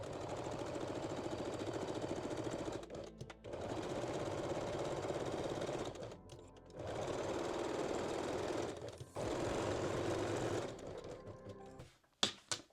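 A domestic sewing machine runs in three long steady bursts, stitching ruched bandeau bikini top pieces together, with short pauses between runs and a few clicks at the end.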